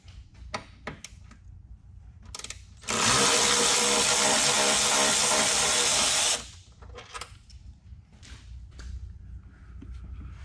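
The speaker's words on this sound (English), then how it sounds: "We're also going to remove this painted 13mm bolt in the side of the apron." A tool works loose a painted 13mm bolt on the side of the front apron of a 2021+ Dodge Durango Hellcat, a loud, dense mechanical whir lasting about three seconds amid quieter clicks and handling noises.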